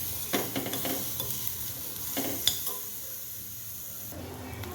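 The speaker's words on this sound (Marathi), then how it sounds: "ती पण मस्त अशी या साहित्यासोबत परतून घ्यायची" Coarse ginger-garlic paste sautéing and being stirred in a pan of masala for a spicy chutney, a steady sizzle broken by a few scraping stir strokes, close and moderately loud with no talk.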